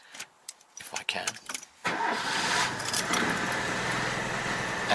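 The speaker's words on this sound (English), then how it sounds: "I'm going to pull the choke out, and I'm going to give it a little bit of throttle, and I'm going to turn the key" An old Dodge car engine on choke cranks after a few faint clicks and knocks, then catches and settles into a steady, rough idle close by.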